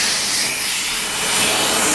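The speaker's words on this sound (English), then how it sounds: "Vacuuming Mom some more!" A vacuum cleaner running close by, a loud, steady broadband whoosh that holds without a break, no talking over it.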